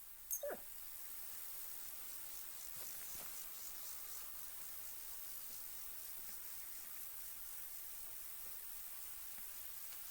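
A dog in the video game Kingdom Come Deliverance 2 gives one short, faint whimper near the start, then a steady hiss of background static runs on alone.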